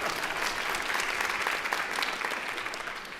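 Steady, dense applause from a concert audience at a memorial concert, many hands clapping at once in a continuous wash that holds at an even level and tapers only slightly toward the end.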